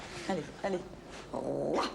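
A man imitates a growling dog with his voice, giving short gruff growls and then a longer rumbling one, close up, with brief spoken words in between.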